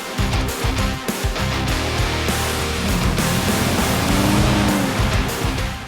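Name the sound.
car engine driving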